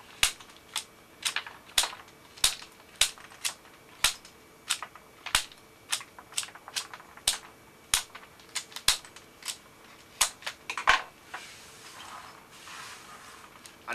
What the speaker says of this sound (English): So we're going to first of all trim off any of the stems.